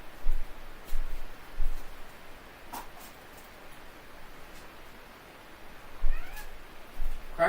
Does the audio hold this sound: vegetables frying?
no